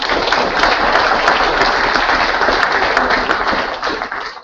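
A large conference audience applauds loudly and steadily, dense clapping filling the whole stretch before tapering slightly at the end.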